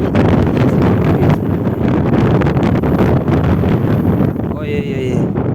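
Strong wind buffets the microphone while out boating on a river near Yakutsk, a loud, constant roaring rumble with a voice faintly present underneath.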